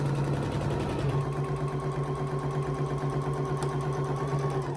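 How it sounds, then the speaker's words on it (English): A sewing machine runs steadily, string-piecing quilt fabric at a quarter-inch seam, its motor holding a constant hum with a fast stitching rhythm throughout, close and alone. "I'm going to again sew that at a 1/4 inch seam allowance."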